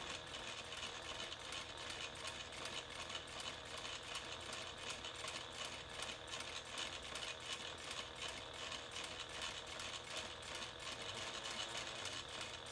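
A sewing machine stitching a slip pocket onto a handbag, running at a steady fast mechanical whir with rapid needle ticks, alone and fairly quiet.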